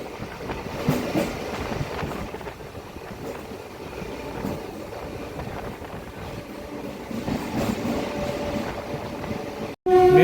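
Inside a night local train from Kharagpur to Howrah as it rolls into Mecheda Junction: a steady rumble and rhythmic wheel clatter continue throughout, and a sharp jolt near the end breaks it briefly.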